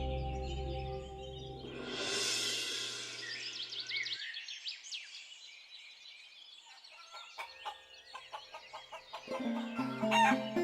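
Roosters in a cage let out a loud crow early on, then fall into a run of rhythmic clucks and scattered squawks that grow busier toward the end.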